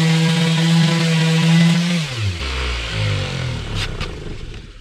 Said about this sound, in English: So anytime I start this palm sander up,